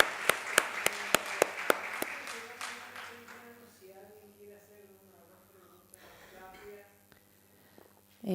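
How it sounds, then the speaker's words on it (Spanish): A short burst of sharp, separate claps from a small audience at a lecture event, a handful of hands applauding briefly before fading into quiet room talk. "Ahora sí pido un aplauso para todos los expositores que estuvieron en esta jornada"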